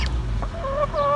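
Laying hens at a village house give brief, soft clucks and short tonal calls in close succession, nearby against low background noise.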